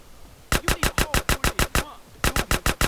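Machine gun fire in the video game GTA San Andreas: a rapid burst of about eight loud, evenly spaced shots, a brief pause, then a second burst of similar rhythm, with no talk over it.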